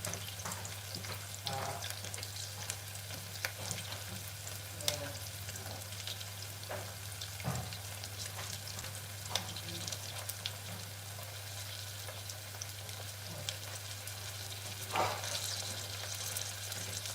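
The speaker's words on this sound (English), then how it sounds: "let's let the onion cook. As you know, onion has to cook properly." Onion sizzles and fries steadily in a pan, a constant close crackling hiss with occasional stirring clicks and a low steady hum beneath, no voices.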